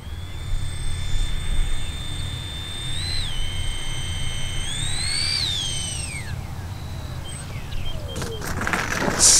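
FMS A10 Thunderbolt V2 RC jet landing at idle power, its ducted-fan whine gliding and dipping in pitch over steady outdoor wind rumble, then fading out as a brief clatter comes near the end.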